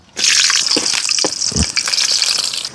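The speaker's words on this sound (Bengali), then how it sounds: "কাঁচামরিচ আর শুকনো মরিচ তেলে দিয়ে দিলাম" Green chilies and dried chilies dropped into hot oil, a sudden loud burst of crackling sizzle that settles into steady, bubbling frying with a few sharp pops, close by.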